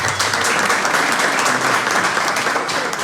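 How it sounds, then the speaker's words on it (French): A crowd at a press conference for KS Bloom in Cameroon applauds loudly and steadily, a dense wash of clapping that fills the room without pause. "Est-ce qu'on peut accueillir aussi KS Bloom en applaudissant très fort?"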